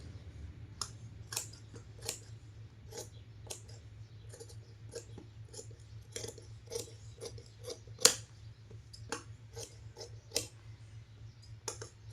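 Scissors cut through blouse fabric for a Paithani saree blouse, making a quick, irregular series of crisp snips and clicks close by, with a low steady background hum and no talking.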